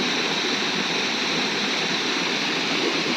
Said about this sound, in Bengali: জলের কি আওয়াজ